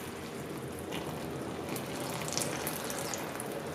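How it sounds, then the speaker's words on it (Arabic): Water poured slowly into a pot for homemade syrup, a steady, continuous trickling splash heard close and moderately loud without any talk. "كنبقاو نصبو الماء بشويه بشويه"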